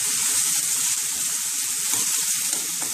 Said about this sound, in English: So I'm just gonna stir this around to get all these nice flavors.